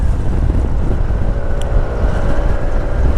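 Yamaha NMAX 125 scooter climbing a steep countryside hill, a steady low engine drone mixed with heavy wind rumble across the microphone, continuous and loud with no talk.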